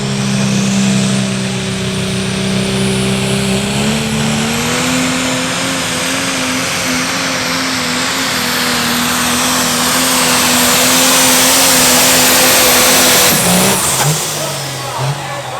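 A light pro stock pulling tractor's engine spools up at an NTPA pull in Arcola, Indiana, a loud, sustained roar whose pitch climbs steadily before dropping sharply near the end, with a crowd and announcer audible underneath.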